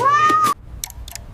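A single drawn-out cat meow, clear and close, then near silence with a few faint ticks.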